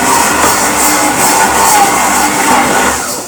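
An electric hand mixer set on low whirs steadily through chocolate cake batter, a continuous close motor drone with a broad hiss that holds level for a few seconds before easing slightly at the end.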